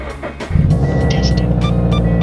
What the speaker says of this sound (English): It's my first time turning my car on today, so a nice cold start for you guys